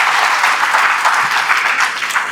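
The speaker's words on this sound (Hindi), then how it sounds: "बजाइए ताली ये दोनों बच्चों के लिए।" A crowd at a hospital and college gathering claps loudly for two children, a thick, continuous burst of applause that holds strong and even throughout.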